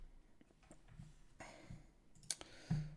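Computer mouse clicks, sparse and close, made while selecting and deleting objects in a graphics program, a few soft taps spread across the moment with a slightly louder click near the end.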